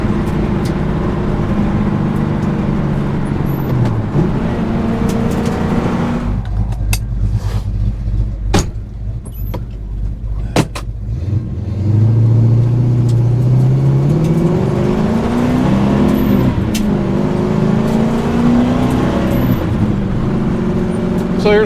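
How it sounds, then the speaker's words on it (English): A car fitted with Summit Racing MAX-efi 500 fuel injection drives along, its engine droning steadily from inside the cabin, with rising revs as it accelerates and shifts partway through. "Love the way this car drives."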